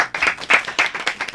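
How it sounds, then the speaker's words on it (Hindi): Studio audience at a Hindi television show clapping for filmmaker Mahesh Bhatt, a short burst of loud, fairly even applause lasting just over a second. "जोरदार तालियां महेश भट्ट के लिए।"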